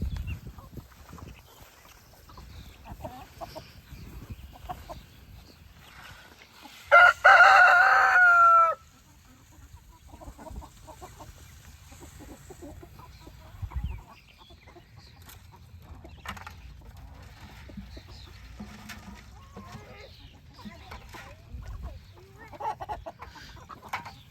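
Orpington chickens cluck softly and scratch about nearby, and an Australorp rooster gives one loud crow partway through, on a farm in the evening.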